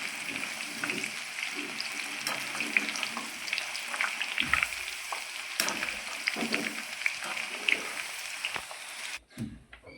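Brinjal pieces fry in hot oil with a continuous bubbling sizzle and crackle, close and moderately loud, with scattered pops before cutting off at the end.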